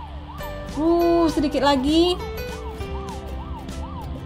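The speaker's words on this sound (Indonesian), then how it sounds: "Oke, kita nyalakan sirene kita kejar." A police car siren wailing in a car-chase game, a repeating rising and falling electronic tone running throughout, while a voice speaks briefly over it and other game sounds swell in the middle.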